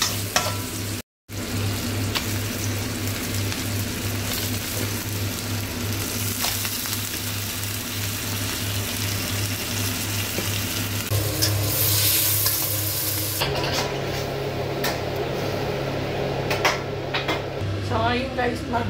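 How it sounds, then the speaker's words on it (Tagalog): Adobo frying in a pan gives a steady, loud sizzle with repeated stirring and utensil scrapes, continuous for the whole stretch, while a voice talks intermittently underneath. "Ganito po ako mag-adobo."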